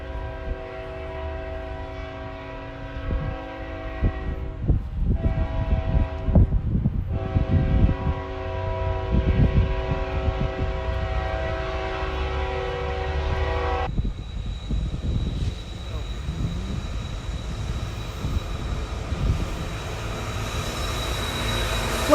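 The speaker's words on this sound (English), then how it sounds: "Luckily, I did manage to capture these Kansas City Southern locomotives." Kansas City Southern locomotives roll past close by, a loud, steady rumble carrying sustained horn-like tones through the first part before settling into continuous wheel and engine noise.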